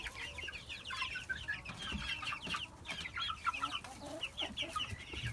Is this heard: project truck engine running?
no